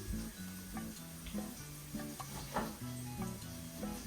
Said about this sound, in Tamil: இப்போ வந்து வெங்காயம் பொரிஞ்சு கொண்டு இருக்கிற சமயத்தில்